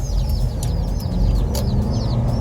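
Baby chicks peeping inside a chicken brooder, a steady chorus of high, repeated chirps over a low rumbling background hum, continuous and fairly loud throughout.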